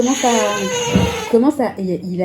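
A baby cries and babbles at home through a family talk recording, a continuous, wavering infant voice with rising and falling wails close to the microphone.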